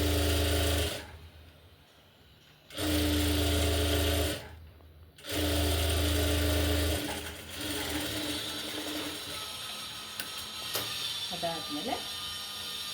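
A sewing machine stitches a border onto blouse lining in loud, sustained bursts separated by short pauses. Quieter fabric handling and a soft voice follow after the machine stops.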